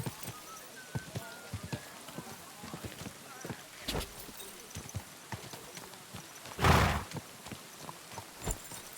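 Horse hooves clip-clop in a video game while the animal gives an occasional whinny, with faint rain and scattered voices behind; a louder burst comes near the end.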